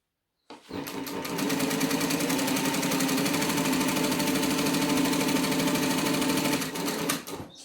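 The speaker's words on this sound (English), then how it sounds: "So that's currently my top stitching speed because I worked out how to turn it down." A home sewing machine stitches at its top speed, a loud, close, rapid mechanical whir of evenly pulsing needle strokes that starts abruptly, holds steady for several seconds and then winds down.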